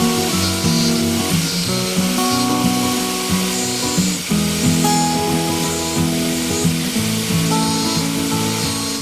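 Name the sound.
grinding off heads of brass pins on Buck 110 knife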